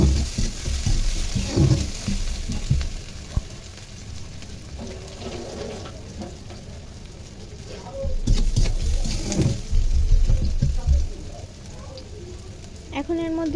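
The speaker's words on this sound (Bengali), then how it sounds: "তারপরে ওই তেলের মধ্যে দিয়ে দেবে পেঁয়াজ কুচি," Chopped onion and tomato frying in hot oil for an okra and prawn curry, a continuous sizzle with intermittent stirring scrapes and clatter, fairly close, over a steady background hiss.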